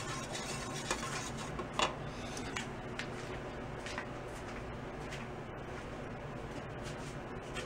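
Wood stain is stirred in a can for a drum restoration: a steady scraping and swishing with scattered light ticks and knocks, close and fairly quiet, with no speech.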